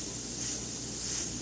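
A short, steady spray hisses across a painting of ocean waves and reflections, a soft continuous burst with no voices.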